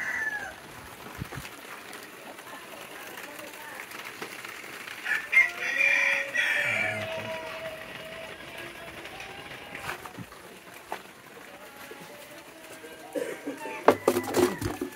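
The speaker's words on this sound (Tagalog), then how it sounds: "Dito yung mga manok. Yung bengala. Tapos isang manok. Yung native." Native and Bengala chickens and a rooster at a Tigaon farm: clucking and crowing come from nearby, with a louder crowing burst midway and more calls toward the end against quiet surroundings.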